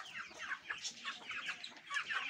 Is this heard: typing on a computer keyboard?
no